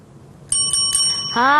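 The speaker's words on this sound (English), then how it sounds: "You heard the bell, so class is in session." A bicycle bell rings crisply, a few quick metallic dings followed by a bright, sustained ring, close and loud against a quiet background.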